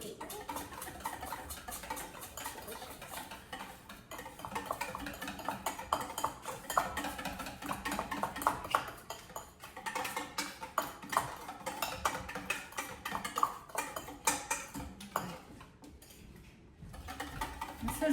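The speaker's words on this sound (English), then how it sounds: "I'm gonna mash my sugar with my orange zest" Sugar mashed with orange zest in a bowl for orange scones, heard as a steady run of close scraping and clinking utensil strokes against the bowl, continuing for the whole stretch with no talk.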